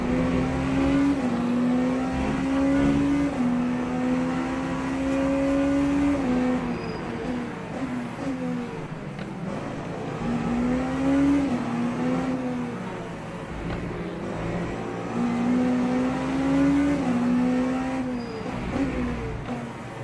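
Race car engines in a racing video game on the Qatar track, with a pack of cars pulling into the first turn, giving loud rising and falling engine whines that repeat in waves across the whole stretch.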